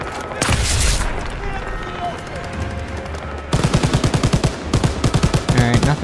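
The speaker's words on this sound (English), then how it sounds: "nothing like a good old MG" Rapid bursts of machine-gun fire from a WW2 MG in the Call of Duty WW2 shooter, loud and close, following earlier gunfire and a blast, with steady rhythmic rounds in the second half.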